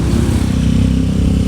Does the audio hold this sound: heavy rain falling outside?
no